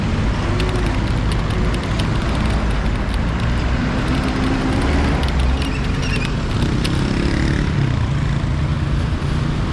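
Busy street traffic along Haile Selassie Avenue in Nairobi, a constant dense roar of passing cars and engines close by, with occasional louder vehicles swelling through the steady noise.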